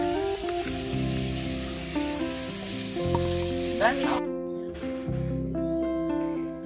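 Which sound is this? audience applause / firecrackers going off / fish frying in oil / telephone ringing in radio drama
fish frying in oil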